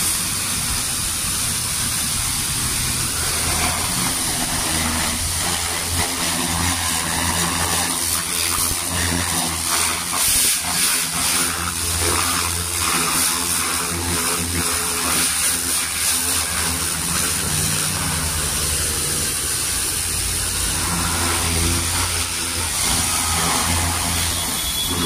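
A new 3HP high-pressure car washing pump runs loud and close with a continuous motor drone and hiss, holding steady with slight swells in intensity throughout.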